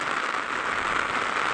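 Steady, dense rain falls close by in a continuous, even hiss while someone walks home on foot in the late afternoon, with no talking over it.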